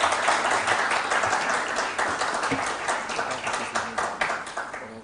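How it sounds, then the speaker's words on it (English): Clapping from a secondary-school quiz audience for both competing teams, a steady, crowded patter of many hands at moderate loudness that gradually thins toward the end. "A round of applause for both teams, please."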